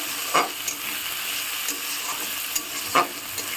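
Tomato frying in a pan for a homemade tadka gives off a continuous soft sizzle, with a few light spoon taps and stirs near the cook.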